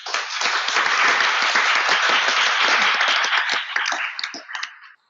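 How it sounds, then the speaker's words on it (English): At a startup pitch award ceremony, an audience breaks into loud, dense applause. It holds steady for several seconds, then thins into scattered claps and stops. "So a big round of applause to all of you."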